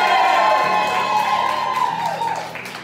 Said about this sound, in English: After 3, biggest cheer of the day